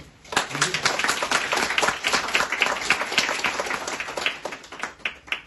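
An audience at a pharmacists' general assembly in Afyon claps steadily, a dense continuous round of applause throughout.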